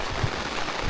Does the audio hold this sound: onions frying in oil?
no